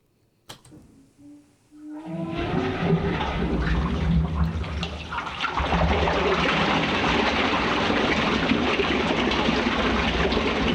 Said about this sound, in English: It changes from a toilet flushing to some kind of metally sound at the start.